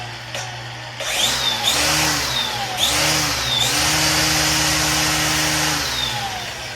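A DeWALT DCMST561 18V cordless split-shaft line trimmer spins up, pulses through a few short bursts and rising whirs, then holds a loud, steady electric whine up close, with no one speaking.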